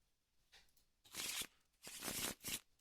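Quiet, close bursts of playing cards being shuffled for the Moonstone board game, two longer riffling sweeps followed by a short final flutter, with no talk over them.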